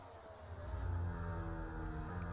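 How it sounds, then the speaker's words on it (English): An F1 car engine in F1 24 drones steadily with a rising, tonal whine, close and continuous for a couple of seconds, with no talk over it. "Now that engine doesn't sound too bad."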